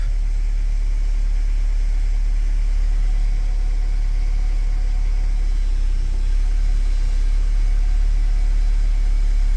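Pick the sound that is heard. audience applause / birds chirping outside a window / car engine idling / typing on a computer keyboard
car engine idling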